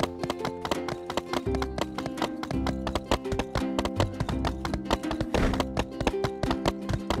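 In the video game My Time at Sandrock, a horse gallops with rapid, rhythmic, clip-clopping hoofbeats over a game soundtrack. The steady beat runs throughout, without speech.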